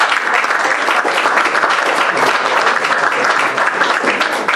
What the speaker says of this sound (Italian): vi chiedo un applauso per Fabrizio